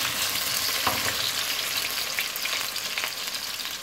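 Chunks of taro root (arvi) fry in hot oil in a pan, giving a dense, steady sizzle and crackle up close, with faint stirring scrapes and no talking.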